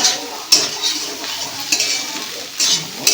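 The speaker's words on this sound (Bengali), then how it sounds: "এবার ডিমটাকে ওই সবজিগুলোর সাথে ভালো করে মেশাতে হবে" Egg stirred together with vegetables in a hot pan while making pasta, a steady soft sizzle broken by a few sharp scraping strokes of the spoon against the pan, close and clear with no talking.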